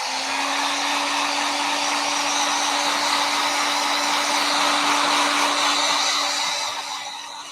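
Heat tool warming up a craft piece, a loud steady blowing whoosh with a constant motor hum, running for about seven seconds before easing off at the end, no talk.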